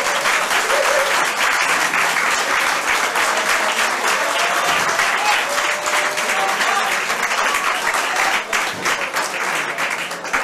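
Loud, sustained applause from a large crowd at a Korean Democratic Party rally and chicken-and-beer party, continuous dense clapping that holds for the full stretch with only a slight dip near the end.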